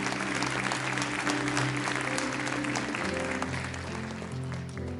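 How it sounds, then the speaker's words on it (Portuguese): A church congregation applauds in a dense, sustained roar of clapping that fills the room from start to finish, with no speech on top. "Você pode aplaudir ao Senhor por isso?"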